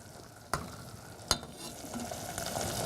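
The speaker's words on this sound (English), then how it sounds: "Now we're going to stir our soup and check in on it." Sweet potato soup being stirred in a pot over a fireplace, with two sharp clinks of a utensil against the pot amid a low, steady simmering hiss; no one speaks.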